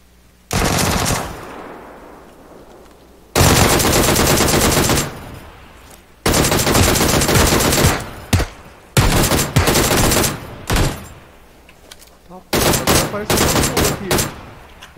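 Bursts of automatic gunfire in the video game PUBG, loud rapid volleys separated by short pauses, with some faint talk in between.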